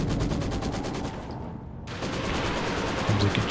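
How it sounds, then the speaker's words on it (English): Video game Katyusha rocket barrage: a rapid, rhythmic volley of loud explosive bursts, briefly thinning out before the dense salvo resumes. "Comes a Katyusha barrage"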